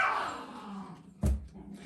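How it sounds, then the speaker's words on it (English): A short burst from three dogs at play, a single loud bark-like yelp near the end, close by, over quiet room noise. "that would be my 3 dogs fighting, playing, not fighting"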